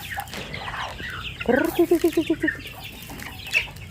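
Chickens clucking up close, one bird giving a quick run of rhythmic clucks, with soft chatter and other fowl noises around it.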